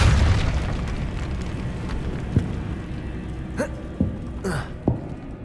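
A Depulso force spell goes off in Hogwarts Legacy, a deep thud followed by a few sharper whooshing bursts and thumps, with a faint game soundscape underneath.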